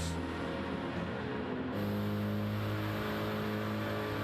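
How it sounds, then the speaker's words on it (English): A BMW race car in a video game roars along a straight at Bathurst, its engine a loud, steady drone with strong low harmonics that shifts pitch partway through as it changes gear, with no talk over it. "And here comes the BMW down the Comrade Straight."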